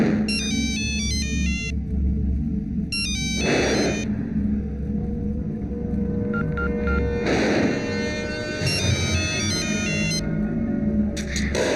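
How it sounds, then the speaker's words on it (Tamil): A mobile phone ringtone plays a repeating electronic melody in bursts with short pauses between, clear and steady over a low background rumble. "மொபைலுக்கு ரிங்கு போகுது"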